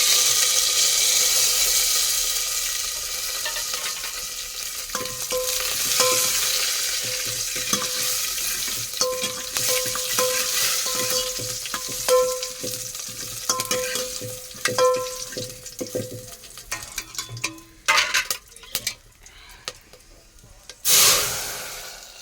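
Cumin, garlic, curry leaves and dried chillies sizzle and crackle steadily in a pan for sambar, with stirring clinks and a brief burst of running tap water near the end.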